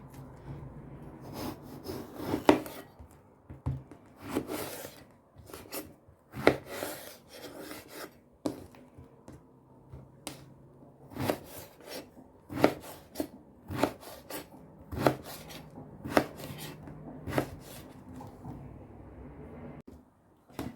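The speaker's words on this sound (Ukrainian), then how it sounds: "І тепер буду нарізати крупненькими скипками." A knife chops eggplant into large chunks on a board, a steady series of sharp, close, wooden knocks at irregular intervals over soft rubbing and scraping, with no talk.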